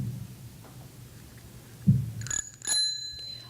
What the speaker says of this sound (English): Candidates, when you hear the bell,